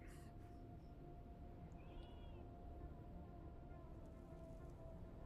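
A cat meows faintly a couple of times inside the video game Dune Awakening, small thin cries sitting over a steady low rumble of game ambience.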